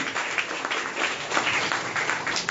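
Loud, sustained clapping from a church congregation during a Sunday worship service, a dense wash of many hands that keeps going steadily throughout with slight swells, with no one speaking over it.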